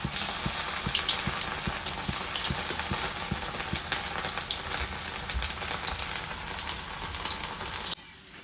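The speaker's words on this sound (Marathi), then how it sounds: "तेल पण चांगलं तापलेलं आहे तेलामध्ये एक एक सोडून घेते" Steady hot-oil sizzling and crackling of cauliflower pieces frying, a dense continuous fry with small pops, close by.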